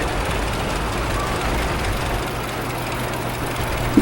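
Steady low rumble of a vintage model G tractor engine running at an outdoor farm show, loud and continuous with a constant droning tone, no talking.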